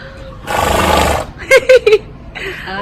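A competition horse in a stable gives a loud, close whinny, followed by three short, sharp neighing bursts, with a brief voice afterward.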